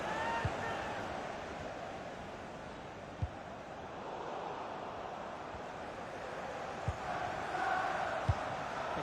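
Stadium crowd in the FIFA 19 football video game, a steady dense roar of many voices that swells slightly toward the end, with a few sharp thumps standing out from the din.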